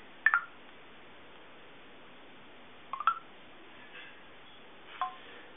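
A Samsung Intrepid phone sounds a few short dialing tones after a voice command, spaced chirps with quiet gaps between them, fairly faint and with no talking.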